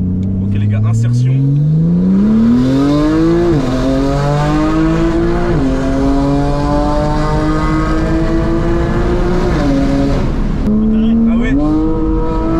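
A 900-horsepower Porsche 911 Turbo S accelerating hard, its engine note rising loud and close through several gear shifts with brief dips between pulls, steady and dominant throughout.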